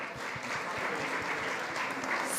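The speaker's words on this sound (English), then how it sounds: "A round of applause," An audience at a food industry summit panel claps for the panelists, a dense continuous round of applause from a large crowd with no talk over it.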